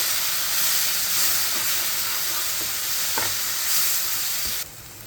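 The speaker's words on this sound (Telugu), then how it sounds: "ఇది కూడా బాగా ఫ్రై చేసేసుకోవాలి. ఆయిల్ అనేది పైకి తేలే వరకు." Tomato paste masala for a dhaba-style baby potato dum aloo curry sizzles and fries steadily in oil, a continuous close hiss with a few soft stirring knocks, ending abruptly.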